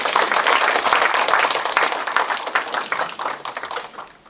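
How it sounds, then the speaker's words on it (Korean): A seated audience claps hard after a taekwondo dance team performs at a town civic meeting, a dense burst of many hands that slowly thins and fades over several seconds. "멋진 공연을 펼쳐준 태권 댄스팀에게 다시 한번 힘찬 박수 부탁드립니다"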